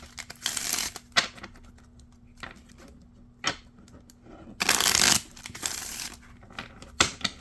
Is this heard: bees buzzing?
no